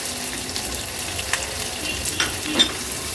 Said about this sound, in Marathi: कांदा तेलामध्ये परतून घ्यायचा आहे